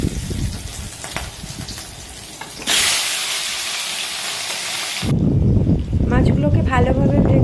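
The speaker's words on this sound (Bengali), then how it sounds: "তো মাছগুলোকে এবার ভেজে নেব।" Fish sizzling as it fries in hot oil in a home kitchen, a sudden loud steady hiss and crackle that swells partway through. A voice speaks over the frying.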